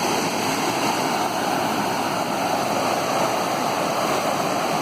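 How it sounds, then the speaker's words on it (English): Mountain snowmelt runoff rushes past in June, a loud, steady, broadband roar of water pounding nonstop with no pauses. "it's really still pounding out a lot of water this year, 2017"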